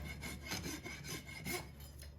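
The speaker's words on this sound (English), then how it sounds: "Come in with our rasp. Undercut it." A farrier's rasp files at a horseshoe nail to undercut it during a shoeing contest, a steady rhythmic rough scraping in about four close, even strokes.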